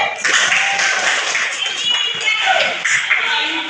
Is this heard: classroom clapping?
yes